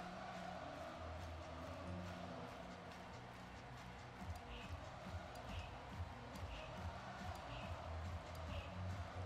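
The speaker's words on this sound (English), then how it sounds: "Home crowd's getting into it, though." A home crowd roars in a college football video game involving Penn State, a steady, dense mass of cheering that stays loud throughout, with faint sharp taps above it.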